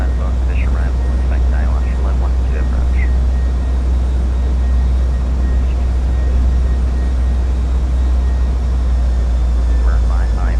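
A steady loud jet engine roar from an Embraer E-Jet airliner on arrival into Miami in Microsoft Flight Simulator, continuous throughout with no words spoken.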